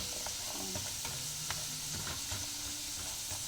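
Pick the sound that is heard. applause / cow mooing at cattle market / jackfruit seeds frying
jackfruit seeds frying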